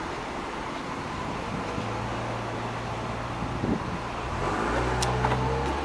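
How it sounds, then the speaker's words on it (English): A car being towed away on a street in Fanwood, NJ, with a tow vehicle's engine droning steadily at middle distance, rising in a deeper rumble near the end. "Well, he's getting towed."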